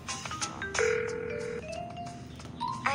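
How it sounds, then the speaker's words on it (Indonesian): Cartoon telephone call to a father, heard as a few electronic ringing and dial tones in sequence, a sustained chirping ring followed by shorter beeps, fairly clear with no speech. "ayo kita telepon ayahmu."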